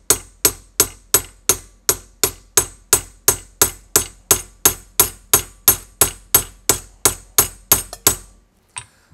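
Steady hammer blows peen over the end of a piece of tool steel, mushrooming it into a rivet while repairing a Chauchat; about twenty sharp, ringing strikes fall at an even rhythm, close and loud, with no talk.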